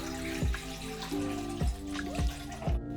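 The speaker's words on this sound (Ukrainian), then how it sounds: "У велику миску наливаємо ледь теплу воду." Lukewarm water pouring into a large bowl, a steady splashing stream with a few falling, gurgling tones as the bowl fills, close and alone.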